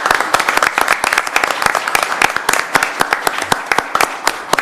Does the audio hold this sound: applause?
yes